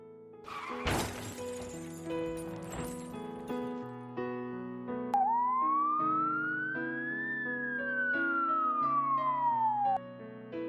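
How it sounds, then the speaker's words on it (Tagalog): A car crash with a shattering impact is followed by an ambulance siren, a single long wailing tone that rises and falls over several seconds, moderately loud against a low musical background. "May mga narinig akong tao at tunog ng ambulansya."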